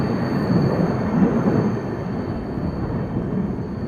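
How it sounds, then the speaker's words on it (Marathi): The 11014 Coimbatore LTT Express runs through Bor Ghat on the Pune-Mumbai line in monsoon weather, heard as a steady, loud, continuous rumble of wheels and carriages from on board, with no voices. "आपण ज्या गाडीतनं आत्ता चाललो आहे तीच गाडी सर्वात पहिली ट्रेन होती रिस्टोरेशन नंतर पुण्याकडे येणारी"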